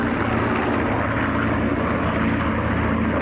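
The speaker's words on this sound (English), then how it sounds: "Up front, Mustang on the left, Corsair on the right, P-38 at the back." Mustang, Corsair and P-38 warbirds fly in formation at an airshow, their piston engines making a continuous dense propeller drone, loud and overhead, with an announcer talking over it.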